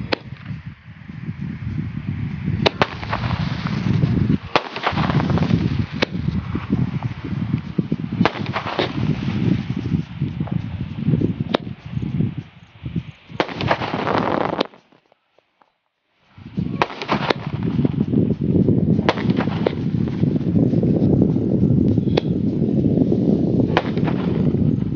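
A Sivakasi 60-shot firecracker fires a long barrage of sharp, loud outdoor bangs in rapid succession, pausing briefly midway before the volley resumes with steady repeated explosions.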